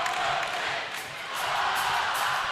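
Basketball crowd at a Winamac at West Central boys game roaring and cheering at tip-off, a dense steady wash of voices with a brief dip mid-clip, faint ball bounces underneath.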